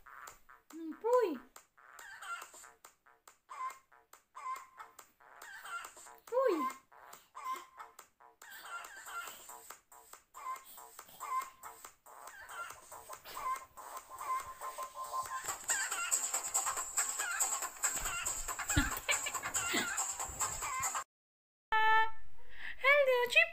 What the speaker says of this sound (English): Chicken. Chicken. That's chicken.